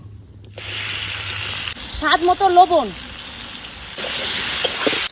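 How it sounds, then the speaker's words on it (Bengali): Chopped tomatoes fry in hot oil with black cumin, chilli powder and turmeric for a vegetarian okra curry, giving a steady close sizzle while someone talks over it partway through. "এবার এটাকে ভালো করে ভেজে নেব কেটে রাখা টমেটো"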